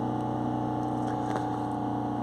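A steady, droning Mercedes E-Class E220 CDI diesel engine held at 3,000 to 3,500 rpm, a continuous tonal hum at constant high pitch with no change in speed.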